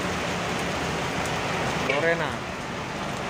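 Heavy rain pours steadily around a bus stuck in a traffic jam, a dense continuous hiss filling the whole stretch, with a brief voice heard over it.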